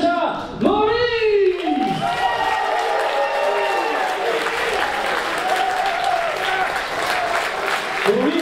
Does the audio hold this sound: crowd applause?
yes